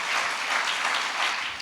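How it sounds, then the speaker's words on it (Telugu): A church audience claps in praise of the Lord, a brief burst of steady, dense applause heard at moderate distance with no voices over it. "చప్పట్లు కొట్టి ప్రభువుని మహింపరచండి"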